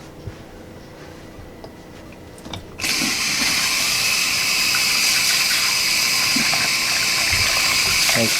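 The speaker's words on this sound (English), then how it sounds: "So, come, we're gonna go rinse your head up," Water from a barber's sink tap rinses a customer's hair, turning on abruptly after a few seconds of quiet room noise and then rushing loud and steady close by.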